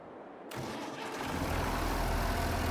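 A farm tractor engine cranks after a quiet moment, then catches and swells into a loud, steady rumbling run that keeps building in strength.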